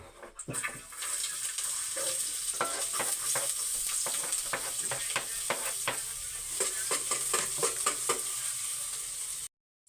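Garlic frying in reused cooking oil, a steady dense sizzle with crackling pops and occasional stirring clicks, close and continuous before stopping abruptly at the end.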